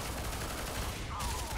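Rapid gunfire bursts in the online shooter Lawbreakers, a dense continuous volley of shots that fills the whole moment at steady loudness.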